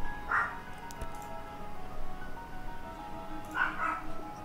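Cartoonish dogs yipping and barking as a playback sound in animation software, two brief high barks at the start and end over a low background hum.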